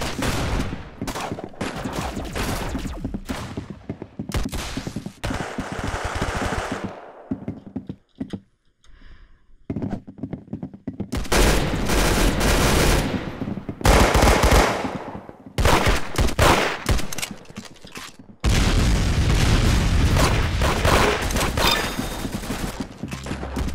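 Rapid bursts of video game gunfire from a revolver and a double-barrel shotgun come in loud clusters with brief lulls between, close and dense throughout.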